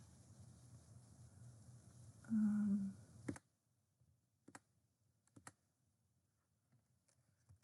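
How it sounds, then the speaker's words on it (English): Scattered keystrokes on a computer keyboard give a few sharp, isolated clicks after a short hum, with quiet gaps between taps, heard close and alone. "Let me see if I can type this out."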